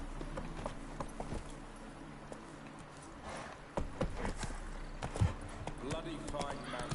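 Horse hooves clip-clop steadily on a path as Roach is ridden in The Witcher 3, a close, even rhythm of hoofbeats running through the whole stretch with a couple of louder knocks near the end.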